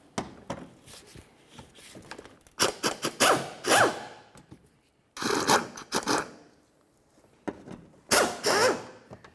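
Hand tools work loose bolts on a 2005-2012 Volvo S40 during axle shaft replacement, giving close, repeated bursts of metallic clicking and scraping in several clusters separated by brief pauses, with no talking.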